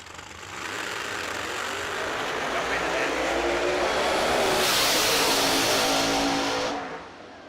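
A Chevrolet Camaro drag racing car accelerates down the strip at a drag racing event, a loud sustained engine roar building and peaking before cutting off, heard from trackside.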